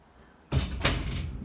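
A house security door opens with a sudden loud clunk and rattle, followed by a sustained scraping, rushing swing.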